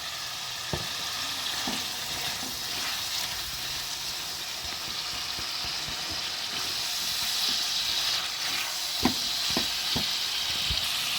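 Boiled potatoes hit a pan of frying spices, setting off a constant crackling sizzle with scattered knocks and scrapes of stirring against the pan, steady and close throughout.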